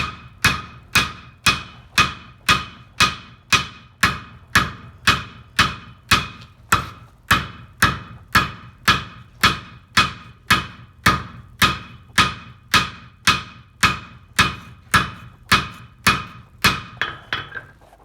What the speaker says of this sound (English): So I'm using the toe of the hammer here to really toe in